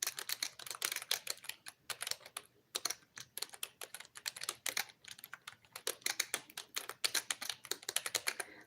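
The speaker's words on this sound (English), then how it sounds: "I'm typing it in" Rapid, uneven keystrokes on a computer keyboard, close and steady with brief pauses, as someone types a search into a computer; no voices.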